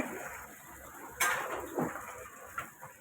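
Pots clank and knock while cooked rice is drained, several sharp metallic hits over a steady background hiss, fairly close.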